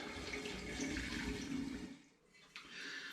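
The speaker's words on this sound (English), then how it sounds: "pouring it through a coffee filter, into a funnel, into another demijohn to remove the large pieces of fruit matter" Gin-infused hard apple cider poured through a coffee filter into a funnel and down into a glass demijohn, a steady close rush of liquid that briefly dips and then resumes.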